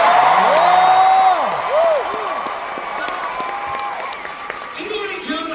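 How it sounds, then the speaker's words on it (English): Large arena crowd of fans cheering and whooping at a live entertainment showcase in the Honda Center, loud at first and then settling into a sustained roar under a presenter's voice. "by the sounds of the crowd, we have some fans here, do we not?"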